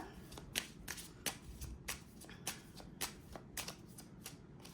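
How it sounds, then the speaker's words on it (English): A deck of oracle cards is shuffled in a quick, rhythmic series of crisp riffling snaps, close and fairly quiet, with no voices. "let's pull some cards from the money deck for you"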